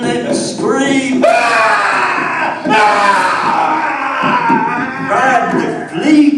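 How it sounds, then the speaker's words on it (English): A loud, drawn-out human scream, shrill and blood-curdling, told as a monster's cry in a Halloween horror story, rising in several long wailing bursts with a few breaks over about six seconds. "He let out the most blood-curdling scream."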